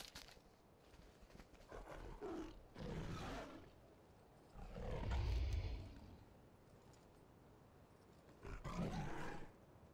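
A tiger in World of Warcraft: Legion gives three separate deep roars spaced a few seconds apart, moderately close and fairly quiet, with low growling between them and no talk.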